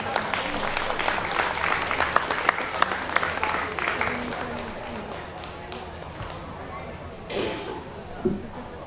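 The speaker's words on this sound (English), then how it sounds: "Let's give our sponsors a round of applause." Spectators at a beef cattle show ring applauding the show's sponsors: a burst of scattered claps that gradually thins out, with faint crowd murmur and a few knocks and thuds near the end.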